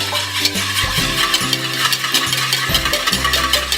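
Egg, milk and oil whisked together for muffin batter, a steady, fairly loud clinking and scraping of the whisk against the bowl, close up and continuous with no talking.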